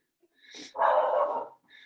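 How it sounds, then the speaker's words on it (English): Dogs bark indoors in a short burst, a yip followed by one drawn-out loud bark and a fainter yelp, close by and with no talk over them. "Sorry, those are my dogs."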